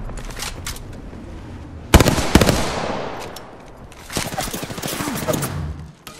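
Gunfire in the video game Apex Legends: loud bursts of rapid automatic fire in two main volleys, with sharp single cracks between them, close and dense, with a faint voice underneath.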